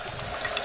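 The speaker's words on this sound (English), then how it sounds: "turn on the water, goes through the machine" Tap water runs through a Kangen water ionizer machine, making a steady close hiss and trickle with small splashes, no voices.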